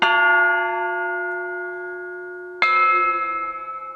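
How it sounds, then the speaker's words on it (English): A large sampled bell from a cinematic percussion library rings out with a long, bright, harmonic tone that slowly decays, then is struck again loudly near the end and keeps sustaining. "Big bell."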